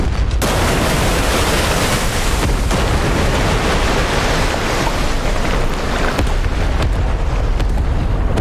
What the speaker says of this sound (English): The deadly shrapnel and blast effect.